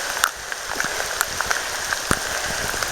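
Steady rain pattering on a surface on a hiking trail along the North Fork Skokomish River, with scattered louder drops landing close by throughout.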